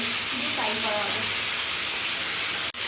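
Chicken frying in a pan, a steady broadband sizzle that runs throughout, with faint voices murmuring underneath and a brief clatter near the end.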